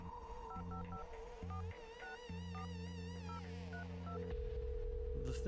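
Touch-tone dialing beeps from a phone in The Red Strings Club video game, a quick run of keypad tones over steady synth music, with no talking.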